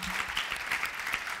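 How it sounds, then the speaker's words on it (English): Audience applause at a presentation on innovation and technology, a steady dense patter of many hands clapping throughout, fairly loud and continuous. "Could we give them a big round of applause?"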